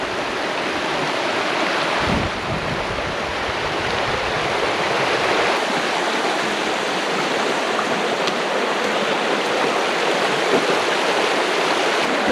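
Frog Bayou stream on the Ozark Highlands Trail rushes steadily in a broad, continuous wash of flowing water, loud and close with no pauses.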